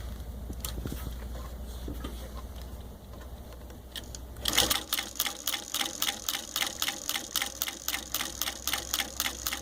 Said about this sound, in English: Looks like it's doing it just fine. The softer and more supple the leather, the better it sews.